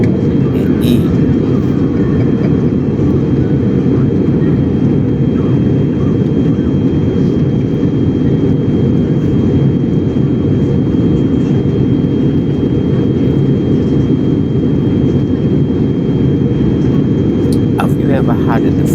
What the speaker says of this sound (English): That is the voice of a jet engine.